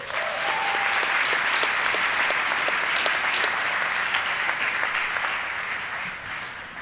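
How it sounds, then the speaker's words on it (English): An awards-ceremony audience in London gives a sustained round of applause for a winning hotel team, dense even clapping that holds steady for several seconds before tapering off at the end. "Let's give them another round of applause."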